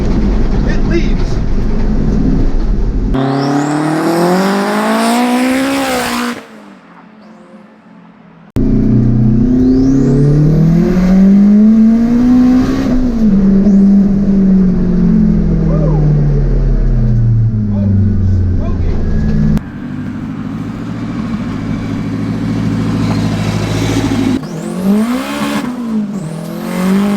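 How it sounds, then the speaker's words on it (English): An all-wheel-drive car accelerates hard in several separate runs, each with a loud engine note climbing through the gears. Short breaks fall between runs, and excited talk is heard around them. "I can't believe this car is that fast."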